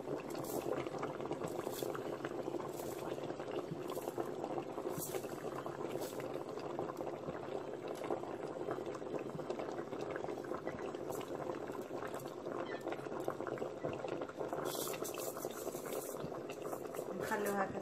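Couscous broth boils steadily in the base of a couscoussier, semolina set in the steamer basket above for Moroccan couscous with vegetables and chicken; a continuous, dense bubbling rumble runs unbroken throughout.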